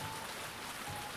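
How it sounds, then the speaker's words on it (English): Heavy rain lashes against the windows of a vehicle driving a dark mountain road at night, a steady dense hiss with no breaks, alone and fairly loud throughout. "the rain fiercely lashes against the windows of the"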